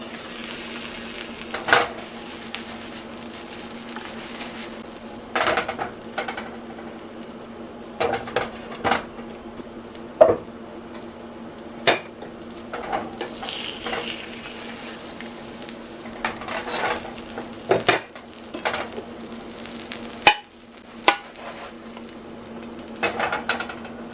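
An omelet cooks in a pan over medium-low heat, giving a steady low sizzle broken by scattered clinks and scrapes of a utensil against the pan, with no talking.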